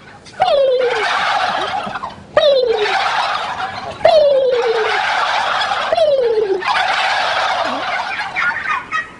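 Bronze turkeys on a large farm that breeds Christmas turkeys gobble loudly and close by, four rattling gobble calls following one another at steady intervals with a noisy flock murmur between them and no talk.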